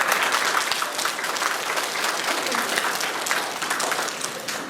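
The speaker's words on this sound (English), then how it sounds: "So give yourselves a round of applause." Students clap together at a school assembly, a dense, steady wash of applause that stays loud and even from start to finish with no voices standing out.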